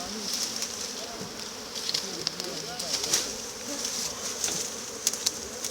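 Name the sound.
honey bees buzzing around an opened beehive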